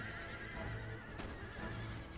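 Cavalry horses neigh and whinny amid a dense battlefield din in the Empire: Total War game, a shrill call rising above constant clatter and rumble, with faint hoofbeats beneath.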